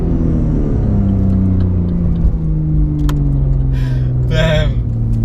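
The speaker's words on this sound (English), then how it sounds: "One of the things that I really like about this car is the capability of launch control." A Porsche 911 GT3 engine drones loudly and close up, its pitch shifting slightly as it revs during a launch control start, with a voice speaking briefly over it.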